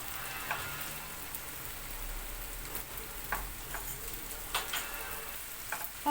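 Rice being stirred and mixed in a pan while toasting for Egyptian-style pilaf, a soft continuous sizzle with scattered light scrapes and taps from the spoon, fairly quiet and close.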